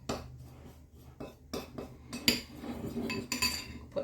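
Spoon clinks and scrapes in a bowl as flour and brown sugar are stirred into cookie dough, a series of close, uneven clattering strokes.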